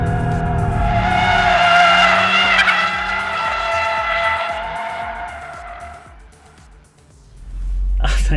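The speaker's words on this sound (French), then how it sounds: "Et ensuite, jouer du volant pour garder la glissade." An Audi RS 3 in Drift Mode slides with a long, loud, wavering tire squeal over the engine note. The squeal fades after about six seconds, and then the engine swells again.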